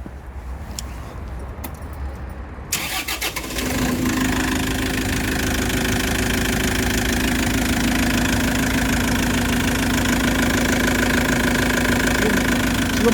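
An Isuzu engine in a GTS forklift cranks and starts, then settles into a steady, loud idle with a constant low hum and rattle that continues to the end.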